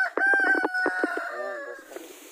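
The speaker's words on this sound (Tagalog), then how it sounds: "ito yung mga manok natin dito sa free range natin na mga manok" A free-range rooster crows loudly and close, a drawn-out call with a few sharp clucks from chickens at the start, then fading.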